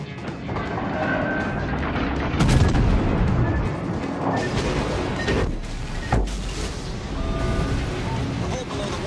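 Naval artillery firing in the World of Warships Legends video game, heavy booms and blasts over a dense, loud roar of battle, with game voice lines spoken over it.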